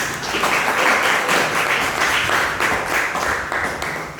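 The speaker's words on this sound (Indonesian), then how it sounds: "tepuk tangan dulu untuk kelompok ini." A classroom audience claps for a presenting student group, dense steady applause filling the whole stretch at a fairly loud, even level with no talking over it.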